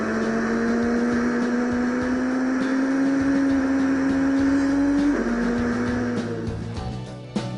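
A car engine in a PC driving game drones with a steady, slowly rising tone, then drops in pitch briefly near the end, heard alone and fairly loud.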